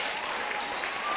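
Studio audience applauding at a televised Firing Line debate, a brief, dense burst of clapping throughout.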